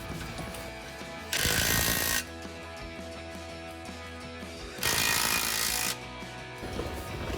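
A ratchet wrench tightens an exhaust clamp on the adapter between a Borla exhaust and BBK mid-pipes under a HEMI Dodge Challenger, with two bursts of rapid clicking, each about a second long, close by over a quiet garage background.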